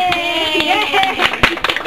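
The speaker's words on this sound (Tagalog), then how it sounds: "Palakpak!" At a child's birthday party, a group claps in quick, uneven bursts close by, mixed with excited voices and cheering.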